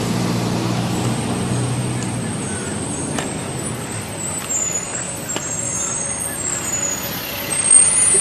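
A truck rolls through city traffic along a trail passage, its low engine rumble steady and fairly close throughout, with broadband road noise and a brief louder swell near the end.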